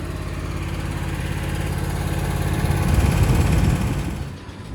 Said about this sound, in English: I've got the grass flap down, and it's just doing a very good job of mulching everything up